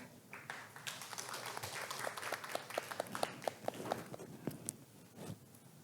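Audience applause at an award ceremony for research institutes, a room of people clapping with scattered sharp individual claps, moderately loud and fairly close.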